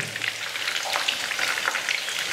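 Chicken kofta pieces sizzle steadily as they fry in a pan, a dense crackling hiss with small pops and faint scraping, close and continuous with no talking.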